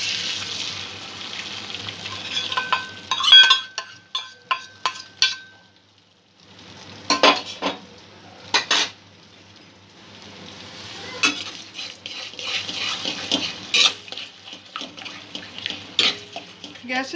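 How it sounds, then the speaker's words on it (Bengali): An egg fries and is scrambled in a little white oil in a wok, with soft sizzling broken by repeated metallic scrapes and clinks of a spatula against the pan. "ডিমটা এখানে ভেজে একটু স্ক্র্যাম্বল এগ করে নেব।"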